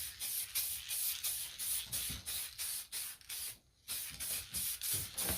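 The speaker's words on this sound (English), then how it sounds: "So first coat, always lay on kind of dry, just kind of mist it on all over" Spray paint can misting a first coat onto a motorcycle helmet, a close hiss coming in short, regular bursts of about half a second with brief gaps, one longer pause midway.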